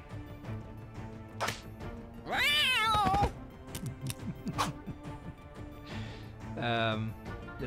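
A cartoon cat in the dungeon card game Guild of Dungeoneering lets out a few strained meows and yowls alongside whooshes and thwacks from a game attack, with someone talking over it.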